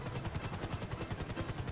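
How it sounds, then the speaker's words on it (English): Helicopter in the video game GTA V, a loud, steady, rapid rotor chop throbbing evenly and close with no talking. "Do you actually know how to fly a helicopter?"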